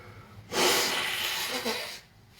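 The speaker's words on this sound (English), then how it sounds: "I gotta blow my nose." A single long, forceful nose blow, a loud breathy honk lasting about a second and a half, then quiet.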